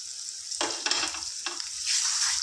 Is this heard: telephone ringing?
no